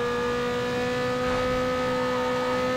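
A Mazda RX-7 engine drones steadily in the Need for Speed Underground 2 racing game, a sustained tonal hum with a slight rise in revs midway, close and continuous with no talk.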